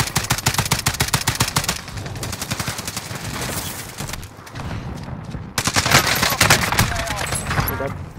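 Rapid bursts of gunfire and sniper shots from a Warzone plunder match, dense automatic fire near and loud with a short lull before another heavy volley, a voice speaking briefly over it.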